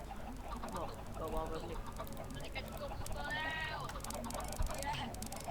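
Minecraft chickens cluck repeatedly over a constant background din, with people talking throughout.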